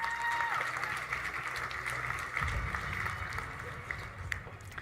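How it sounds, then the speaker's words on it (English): Clapping from the audience at an engineering excellence awards ceremony continues steadily at moderate loudness, blended with background music, before tapering toward the end. "A round of applause and congratulations once again."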